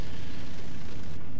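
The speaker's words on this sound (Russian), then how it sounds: "Есть выстрел." A single booming cannon shot from a tank in War Thunder rumbles out with a heavy low-end blast and decays.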